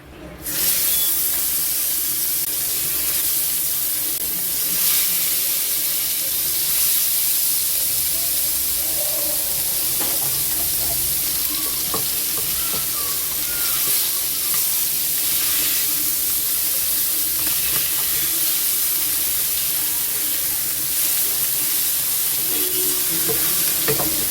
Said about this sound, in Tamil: எண்ணெய் காஞ்ச உடனே மீனை போடுவோம்